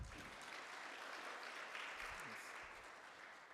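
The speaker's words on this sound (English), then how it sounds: "Can we give a round of applause to Michelle?" A summit audience gives Michelle a round of applause, a steady wash of clapping heard from a distance and fairly faint, with a few low thumps and some voices mixed in.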